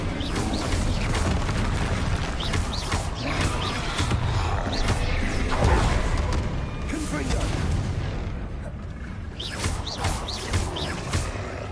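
Incendio fire spell cast in a Harry Potter video game, a dense, continuous roar of booming, crackling blasts that stays loud throughout, with a brief dip near the end before the rumbling effects surge back.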